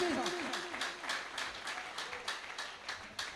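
Audience applause for Anjum Salimi at a literary gathering, steady dense clapping throughout with a speaking voice over the start.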